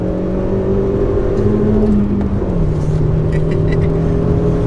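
Peugeot 106 S16 Rallye engine revving hard under acceleration with a wheel spinning, a loud steady droning whine rising then stepping down as the gear changes, close up from inside the car.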